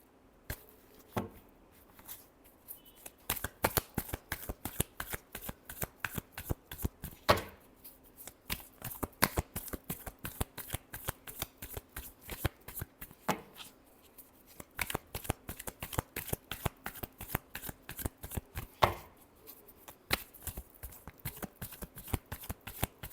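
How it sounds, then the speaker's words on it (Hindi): A deck of tarot cards is shuffled over and over, a quiet rapid riffling flutter of crisp card snaps in repeated bursts with short pauses between rounds. "Last shuffle."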